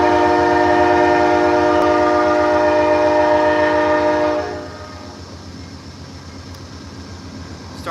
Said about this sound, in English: that's the warning whistle